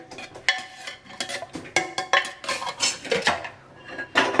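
Cooked mutton curry with coriander leaves being served out of a cooking pot, a close run of metal spoon scrapes and clinks against the pot.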